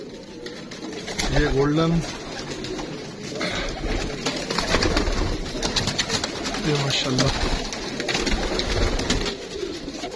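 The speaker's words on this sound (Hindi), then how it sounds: "माशाल्लाह तकरीबन हर नस्ल के कबूतर अल्हम्दुलिल्लाह आपको इस केज में नजर आएंगे" Pigeons of many breeds, including golden birds, coo repeatedly inside a breeder's cage, close and fairly loud, while someone talks over them throughout.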